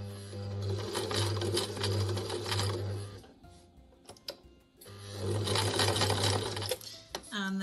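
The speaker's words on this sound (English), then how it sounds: "Remember to do the first few stitches backwards and forwards to secure it." A domestic sewing machine stitches a fabric tote bag in two loud steady runs, a brief pause with small handling clicks and fabric movement between them.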